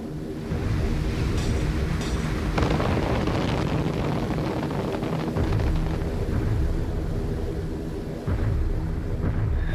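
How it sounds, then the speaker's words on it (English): WWII anti-aircraft flak barrage bursting around heavy bombers over Berlin, a continuous dense roar of engines and explosions with repeated heavy booms, loud and sustained throughout. "the bombers headed unescorted straight into a flak barrage to drop"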